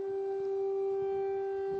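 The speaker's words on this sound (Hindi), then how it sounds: "ये हवाई हमले के सायरन्स जो इस समय सुनाई दे रहे हैं कीव शहर में" Air raid sirens over the city of Kyiv sound a single steady, unwavering tone that holds without a break, distant but clear above a low rumble of background noise.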